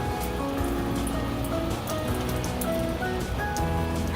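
Steady rain drumming on the roof and shell of an RV, a dense continuous patter close by with no voices.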